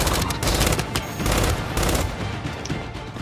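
Rapid gunfire from snipers and weapons in the Gears 5 video game, heard as a dense, continuous barrage of loud shots that runs through the whole clip with no talk over it.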